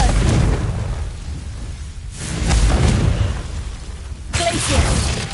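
Confringo fire spell in Hogwarts Legacy, heavy booming blasts in repeated surges, loud and close with rumbling tails.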